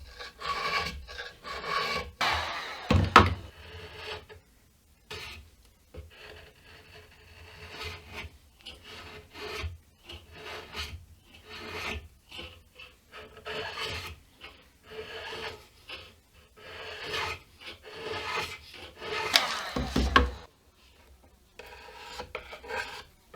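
Scraping finish off an Encore guitar during restoration, a dry rasping scrape repeated in irregular strokes close up, with a couple of louder knocks and pauses between passes.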